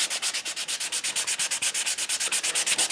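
Sandpaper is rubbed by hand over a wooden Native American flute in quick, even back-and-forth strokes, a close, steady rasping rhythm of about eight strokes per second with no voices.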